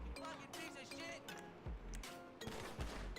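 Gunfire in a Grand Theft Auto video game, irregular bursts of sharp shots and rapid fire with metallic clinks, close and loud, with a player's voice in the mix.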